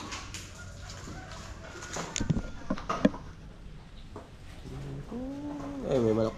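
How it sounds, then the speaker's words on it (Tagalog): A chicken clucks near the end, short rising calls following a stretch of outdoor background noise with scattered knocks and faint voices. "Ay, may manok pa tayo."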